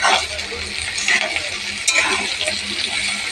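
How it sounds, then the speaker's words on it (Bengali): Cut potatoes frying in a pan alongside onions for jhinge aloo posto, a loud, dense sizzle running throughout, broken by light stirring scrapes and a utensil clink, no speech. "আলুগুলোকে আগে ভেজে নেব"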